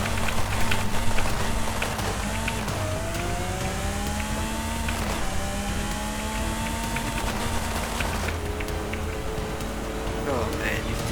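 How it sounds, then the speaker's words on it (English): A high-revving hypercar engine climbs steadily through rising whine as it accelerates hard toward top speed, with brief gear-change dips, loud and continuous under wind roar. "The engine sounds so good."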